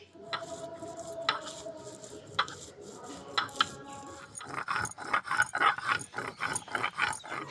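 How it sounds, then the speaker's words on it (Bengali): Dried red chillies ground on a traditional grinding stone, rough scraping and rubbing strokes that grow into a fast, steady back-and-forth rhythm, close and moderately loud. "এবার আমি শুকনো লঙ্কাটা বেটে নেব।"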